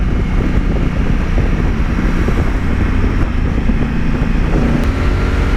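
Strong wind buffets the microphone while a Honda Africa Twin motorcycle is ridden, a loud, continuous broadband roar with no talking.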